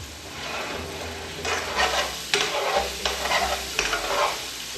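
Saltfish with cabbage and bok choy is stirred in a pan over low heat, a utensil scraping and shuffling the mix in several close strokes over a soft, continuous sizzle.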